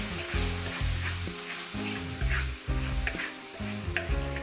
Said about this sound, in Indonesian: Ini saya haluskan, kemudian saya tumis.